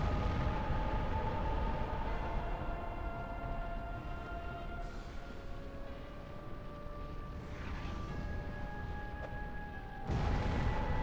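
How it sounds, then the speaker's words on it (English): An explosion during the Bed of Chaos boss fight in Dark Souls: a sustained low rumbling roar that fills the scene, then drops briefly before surging back loudly near the end. "There's the explosion."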